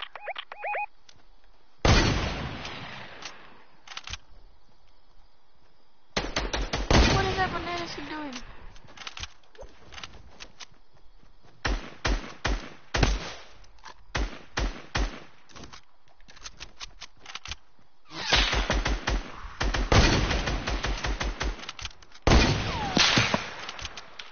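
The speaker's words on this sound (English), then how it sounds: "people are shooting right here." Video game gunfire comes in repeated sharp volleys and scattered single cracks, some loud and close and others thinner, with pauses between bursts and bits of other game sounds.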